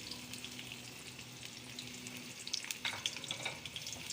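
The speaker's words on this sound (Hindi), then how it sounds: "अब हम इसमें गोल कटी हुई प्याज डाल देंगे" Round-cut onions sizzle in a cup of hot oil for chana pulao, a steady close crackle and hiss with brighter spattering pops toward the end, and no talk.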